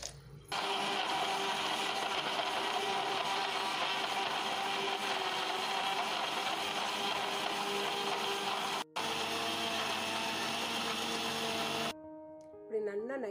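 A kitchen mixer grinder blending carrot, jaggery, coconut milk and water, a loud steady whirring roar for about eleven seconds with a brief dip before it switches off.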